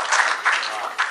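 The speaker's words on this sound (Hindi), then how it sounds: "जोरदार तालियों से इस्तकबाल कीजिए" An audience at a mushaira, an Urdu poetry gathering in Ghaziabad, applauds to welcome a poet with a steady wash of clapping that swells and dips, while a voice talks over it.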